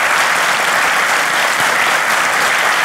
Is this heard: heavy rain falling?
no